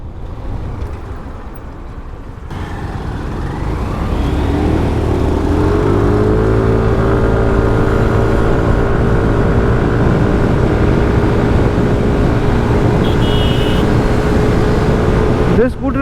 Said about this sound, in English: This scooter is sweet because it has already crossed 80 kilometers per hour